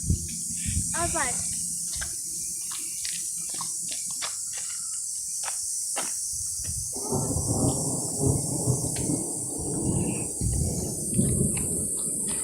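A thunderstorm in Wikieup brings low thunder and then a heavier, broadband wash of storm noise that swells midway and continues to the end, with voices heard faintly at times.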